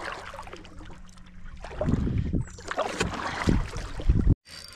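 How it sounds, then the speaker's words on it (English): Kayak paddles dip and splash in water in a rhythmic series of strokes while fishing for bass, with light wind noise and a brief dropout near the end. "I do love the sound of the water on my paddles."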